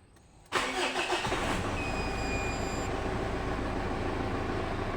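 A cold Mitsubishi Pajero, left unstarted for two days, cranks and catches, then settles into a steady, close idle with a faint whine, a few brief high beeps sounding partway through.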